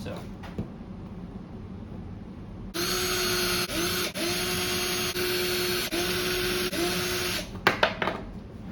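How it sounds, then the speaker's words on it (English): A power drill whirs steadily for several seconds, briefly dipping in pitch a few times as it drills countersinks into a fingerboard deck, then stops with some clattering. "So we drilled the countersinks now."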